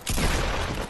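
A single loud pump shotgun blast in a video game, close and booming, with a short rumbling tail filling the rest of the second.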